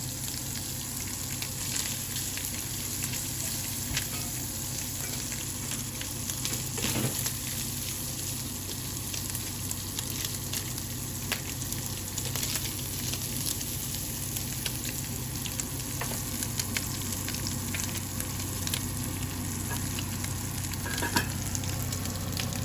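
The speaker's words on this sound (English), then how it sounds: "We put some butter in a frying pan and fry the balls until nicely brown." Meatballs fry in butter in a frying pan, giving a constant low sizzle and crackle with occasional soft pops, steady throughout with no talking.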